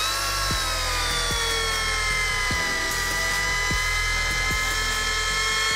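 A power drill driving a car jack whines steadily at high pitch, its motor dipping slightly under load at regular intervals, with no talking.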